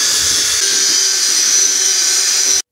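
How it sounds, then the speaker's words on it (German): A cordless drill fitted with a whisk stirs Knauf Uniflott filler at moderate speed, a loud, steady high whine with a faint rhythmic scraping underneath, close up, cutting off abruptly near the end. "Den habe ich mal in einen Akkuschrauber eingespannt auf nicht zu schneller Drehzahl und dann können wir nämlich auch schon ganz einfach mal diese Spachtelmasse ordentlich verrühren."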